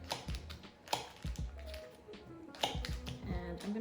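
Knife cutting a stick of butter into cubes on a board, a series of sharp close taps and knocks in an irregular rhythm, with a few soft gaps between cuts.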